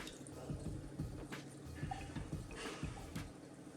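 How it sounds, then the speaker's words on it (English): Water is squeezed out of rasmalai dough, producing faint, repeated soft drips and wet squelches in an uneven rhythm, close but quiet. "Now we'll squeeze out the water."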